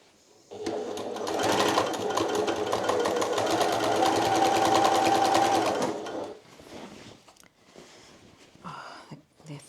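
Sewing machine running a top stitch along men's shirt fabric, a steady loud whirring drone for about five seconds, then stopping into quieter handling noises.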